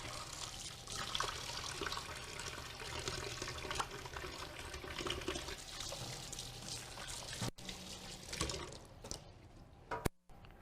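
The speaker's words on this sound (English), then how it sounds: "I'm just going to wash my hands." Water runs from a kitchen tap as hands are washed beneath it, a steady splashing flow for about seven seconds that breaks up into a few sputters and stops near the end.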